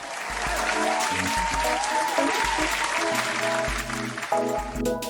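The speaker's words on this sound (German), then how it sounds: "Respectful small clap." Continuous clapping and cheering fill the clip, steady and fairly loud, with musical tones running underneath throughout.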